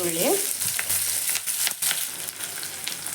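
Onions frying in oil in a pan, a loud steady hiss and sizzle with occasional stirring scrapes and clatter close by, without any speech.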